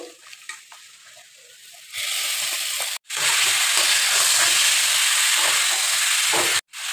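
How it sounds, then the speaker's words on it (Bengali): Chicken meat drops into hot oil spiced with turmeric, chili and cumin powder, and a loud, steady sizzle with hissing steam starts up and continues, with a few brief breaks. "এবার মাংসটা দিয়ে দেবো"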